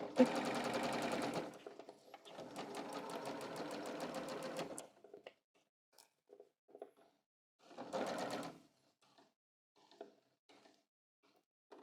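A sewing machine stitches a pants pocket and side seam up to a tailor tack, in two long close runs of steady whirring, a short burst later on, and quiet handling sounds between.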